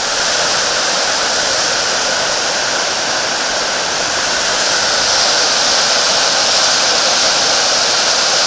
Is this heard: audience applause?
no